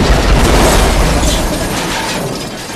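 An explosion in the Happy Wheels video game, a loud, dense roaring blast that fills the whole moment and fades only slightly over a few seconds.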